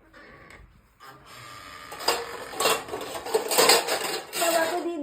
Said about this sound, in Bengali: আমি বাবাকে গরম গরম ভাতটা সার্ভ করে দিচ্ছি। তার সঙ্গে মাংসটা দিয়ে দিচ্ছি